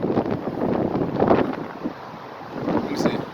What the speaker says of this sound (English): Because California is OD windy.